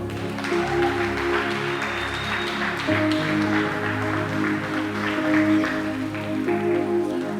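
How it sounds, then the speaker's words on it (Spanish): Church congregation applauding during an evangelist's service, dense clapping mixed with sustained music tones, loud and continuous throughout. "Denle un aplauso al Señor"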